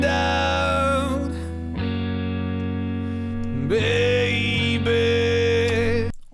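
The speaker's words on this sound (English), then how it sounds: "Basically in this song I'm using distortion all over it." A singer's voice run through heavy distortion, sustained melodic notes with a gritty, buzzing edge over steady backing music, loud and continuous throughout.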